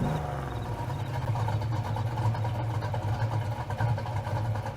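A modded Ford Mustang engine in Farming Simulator 22 idles steadily with a deep, low rumble, holding an even, continuous drone throughout without revving.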